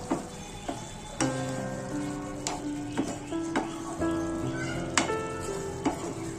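Chana dal and potato curry with pumpkin sizzles steadily in a pan while a utensil mixes it, sharp ticking scrapes and clinks recurring roughly every second over the continuous close frying hiss.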